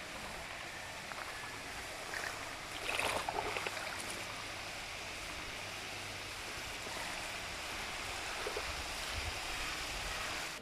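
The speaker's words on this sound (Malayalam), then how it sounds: "വലിയ തോതിലാണ് വെള്ളം പുറത്തേക്ക് ഒഴുകുന്നത്" A steady rush of water gushing out of a leaking, overflowing branch canal fills the whole stretch, broad and continuous, with a brief louder surge early on and no voices.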